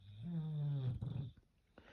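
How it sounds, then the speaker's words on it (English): A dog snores with one drawn-out, rumbling snore at close range, followed by quieter breathing and small noises in an otherwise still room. "Here we go with Fergus snoring"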